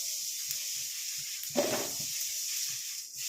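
Curry leaves fry in a pan with a steady, close hissing sizzle, swelling into a brief louder crackle partway through before settling back.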